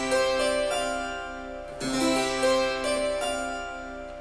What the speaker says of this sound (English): Basically, the chord sounds like this for the Serpent Mound.